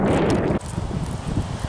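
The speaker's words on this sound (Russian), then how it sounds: "Ужасный ветер." Strong wind gusts during an outdoor walk with a German shepherd, heard as a loud, close, rumbling rush against the microphone that eases slightly after half a second but keeps buffeting.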